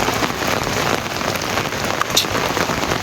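Steady, heavy rain falls in a dense, continuous hiss and patter on surfaces, loud and close, with no voices.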